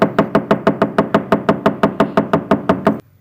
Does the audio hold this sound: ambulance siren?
no